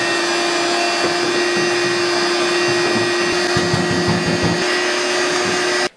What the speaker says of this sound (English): I'm gonna vac out this real quick